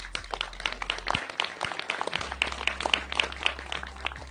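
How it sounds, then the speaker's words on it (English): A modest round of clapping from a small press-conference audience in Milan, scattered individual claps close by over a low background hum, with no talking. "I ask you for a round of applause"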